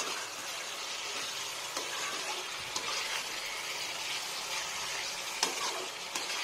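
Onions sizzle and crackle in a pan with a splash of water, stirred steadily for yogurt chicken, a dense continuous frying hiss with occasional scrapes of the spoon close by.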